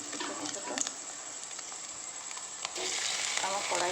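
Fish roe fritters sizzle in hot oil in a large wok, a steady close crackling hiss with small pops that swells louder toward the end.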